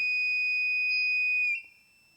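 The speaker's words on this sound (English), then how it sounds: "There you can hear that's the buzzer." A loud, steady electronic buzzer tone sounds alone for about a second and a half, then cuts off sharply, leaving a faint fading ring.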